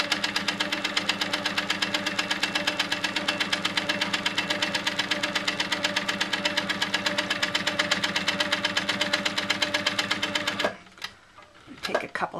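A sewing machine stitching while echo quilting runs in a fast, even mechanical chatter for about ten seconds, then stops, leaving a few brief clicks and handling sounds.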